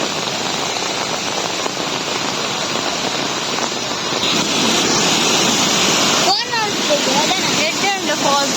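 A waterfall pours in a steady, full rush of falling water close by, and a voice speaks over it in the last few seconds.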